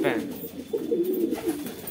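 Pigeons coo in a low, repeated warble at a home loft where some birds are kept in boxes, partly under a man's nearby speech.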